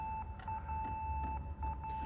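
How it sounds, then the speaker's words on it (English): Electronic beeping inside the Fatal Frame: Mask of the Lunar Eclipse video game, a steady tone pulsing in short repeated beeps over a low ambient hum, fairly quiet and without talk. "Someone shut that fucking beeping up."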